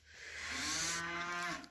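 A cow gives a single drawn-out moo lasting over a second, close and fairly loud, rising and then tapering off on its own with no talk.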